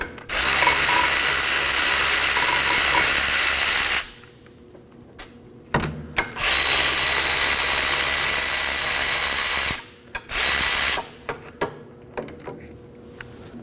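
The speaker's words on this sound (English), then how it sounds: "we're going to be removing the entire caliper assembly, and for that we're going to use a 17mm socket" A power tool with a 17mm socket spins off the rear brake caliper bolts on a 2014-2020 Acura MDX, loud buzzing whirs in long runs separated by pauses, with short bursts and metallic clicks between them.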